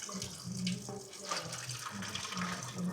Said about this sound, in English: That now is that coolant draining out.